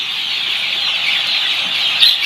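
A dense, steady chorus of chickens clucking and peeping in a netted pen, continuous and fairly loud throughout.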